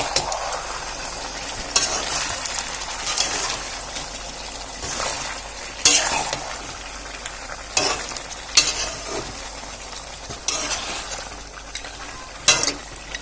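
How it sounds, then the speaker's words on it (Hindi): Pork frying in a pan, with a spicy Indian-style pork legs dish, being stirred steadily: continuous close sizzle under repeated scraping spoon strokes and occasional louder clatters, no talk. "अभी इसको मैं अच्छी तरह से चला लेती हूँ।"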